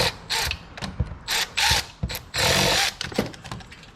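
Ratchet wrench snugging bolts down on a 1961 Cadillac during repairs, heard as several bursts of rapid mechanical clicking separated by short pauses, close and fairly loud with no talking.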